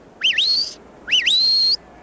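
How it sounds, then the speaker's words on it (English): A shepherd gives two sharp, loud rising-and-falling whistle commands to herding dogs, each a swooping note that ends on a sustained high tone, close by with a pause between them. "The shepherds command the dogs with words or by whistling."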